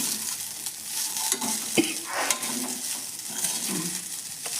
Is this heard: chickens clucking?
no